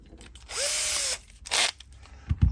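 A power drill whirs in two bursts: a longer run whose pitch climbs as it spins up, then a brief second spin, each followed by faint clatter and handling noises.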